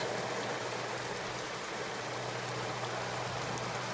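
Steady, dense rain hisses evenly throughout, a constant wash of noise with a faint low hum underneath during a wartime scene.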